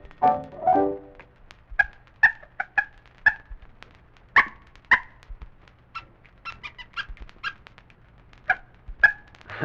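A little puppy barks in an old radio show, first a short whimpering whine, then a long run of sharp, high yips and squeaky barks, irregular and close, with no talk over them.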